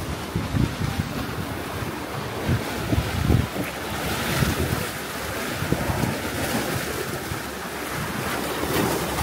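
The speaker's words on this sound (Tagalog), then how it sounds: "Lakas ang alon." Strong waves surge and crash repeatedly on a Boracay beach under heavy wind noise buffeting the microphone, loud and rough throughout.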